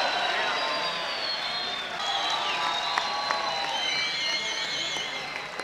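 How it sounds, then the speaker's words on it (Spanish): A large crowd at an outdoor car race trophy ceremony applauds and cheers in a dense, continuous wash of sound, with a few whistles rising above it. "Venga, aplauso ahí fuerte."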